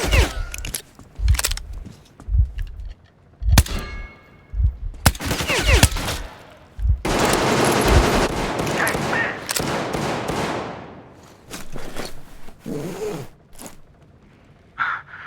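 Bursts of gunfire in the shooter game Metro Exodus Enhanced Edition, sharp close shots and rapid automatic volleys separated by short pauses, with a long roaring blast in the middle that fades away, and a few brief vocal sounds between them.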